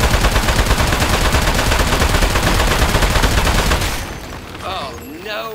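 Rapid, loud gunfire from the video game Aperture Desk Job rattles on for about four seconds in dense bursts, then cuts off, leaving quieter game sounds.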